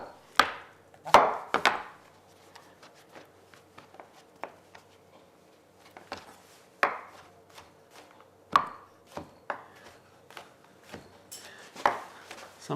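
A knife chops mushrooms on a cutting board in a string of crisp, uneven taps, some louder and some softer, close up, with no talk.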